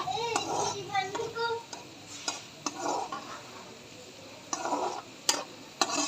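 Onions are fried and stirred in a pan for matar pulao, with intermittent scraping and clinking strokes of a utensil against the pan over a faint sizzle. A voice speaks in between the strokes.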